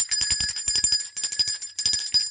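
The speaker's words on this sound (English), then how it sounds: "Let's ring the bell for that." A bright bell rings in four quick bursts of rapid strikes, each burst separated by a short pause, loud and close.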